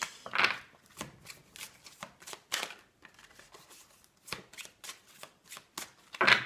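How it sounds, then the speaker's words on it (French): Tarot cards are shuffled by hand in a series of short, crisp riffling bursts with brief gaps between them, close and fairly loud, with no voices. "je vais vous faire tirer une petite carte conseil"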